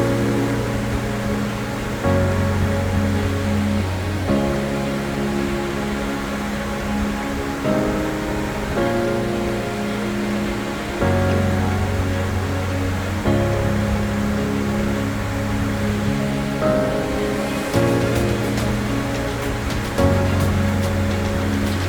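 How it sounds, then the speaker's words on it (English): Waterfall rapids in the Philippines make a constant loud roar of rushing water, with steady tonal music-like layers shifting underneath and no voices. "a view of the rapids running from the other side"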